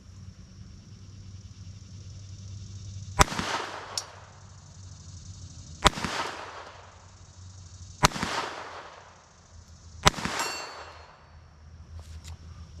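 Four sharp, loud gunshots from a Beretta 81 pistol firing .32 ACP rounds outdoors, spaced a few seconds apart, each with a ringing metallic tail and echo over a low steady background hum.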